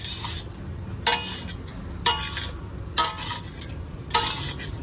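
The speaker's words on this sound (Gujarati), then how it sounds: "ધીમે ધીમે એને હલાવી લેશું પ્રોપર તરીકે" A spoon scrapes through mag pulao (spiced moong-bean rice) in a pan, four rhythmic stirring strokes about a second apart, close and clear over a low sizzling background.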